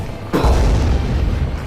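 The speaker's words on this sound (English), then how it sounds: "Causes an enormous eruption that engulfs the area in flame." A booming explosion as a musket shot ignites an oil keg in a 1769 Delaware zombie game, a sudden heavy blast rolling into a loud low rumble that fills the rest of the moment.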